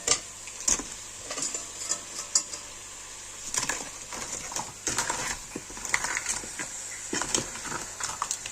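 Crab sautés with masala in a pan, with irregular scraping and clattering stirring strokes close by over a faint background sizzle.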